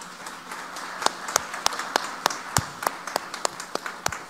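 Scattered, sparse applause from a small audience welcoming Dr. Luis Enrique Cordero Aguilar at a legal forum, individual sharp claps ringing out at an uneven rhythm over a soft room murmur.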